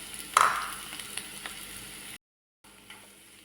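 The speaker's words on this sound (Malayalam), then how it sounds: "ഇനി നമുക്കൊരു 30 സെക്കൻഡ് അത് വഴറ്റി കൊടുക്കാം." Onions sautéing with mustard seeds in coconut oil in a kadai, a steady close sizzle with a sharp crackle and scrape near the start, soft stirring clicks, a brief dropout, then quieter frying.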